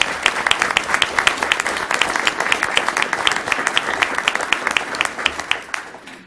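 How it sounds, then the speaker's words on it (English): Audience clapping at a school board meeting, a steady round of applause from a crowd with dense rapid claps that fade out near the end. "let's give them a round of applause."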